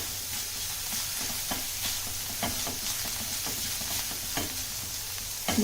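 Vegetables with spring onion being stir-fried over a high flame for veg Manchurian, a steady loud sizzle broken by repeated scraping strokes of a spatula in the pan, with no voices.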